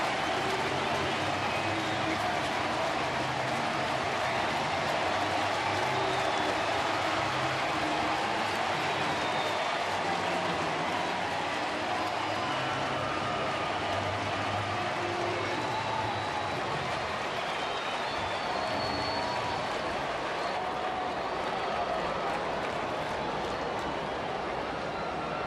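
Distant stadium crowd at a Pirates versus Reds baseball game in Cincinnati, a steady broad roar of cheering and clapping that holds evenly for the whole stretch without letting up.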